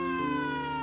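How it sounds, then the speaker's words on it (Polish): Ambulance sirens in a radio drama, a steady harmonic wail sustained at an even, fairly loud level with no speech over it. "I słyszycie, jak zbliżają się tutaj karetki"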